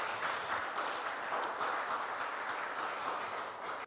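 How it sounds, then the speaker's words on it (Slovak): Sustained applause from an audience at a conference session, an even, fairly distant wash of clapping that holds steady before cutting off abruptly, with no talking over it. "zaslúži si to potlesk"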